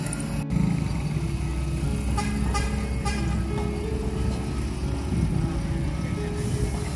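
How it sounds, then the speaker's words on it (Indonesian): A trailer truck hauling girders at a toll road construction site sounds its horn as a signal. Short toots cut through a steady low rumble of engines and idling heavy vehicles, with a sharp clank near the start. "Truk trailer sudah memberikan kode dengan cara mengklakson ya teman-teman"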